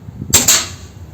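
An Umarex Legends Luger P-08 air pistol fires a single close, sharp shot at a target 16 yards away, followed a moment later by a second crisp crack.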